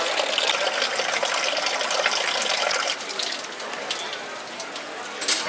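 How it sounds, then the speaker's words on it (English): Water gushing steadily from a fresh water well in Dubrovnik into a water bottle being filled, a close continuous splashing rush with faint background bustle. "so let's fill up our water bottle."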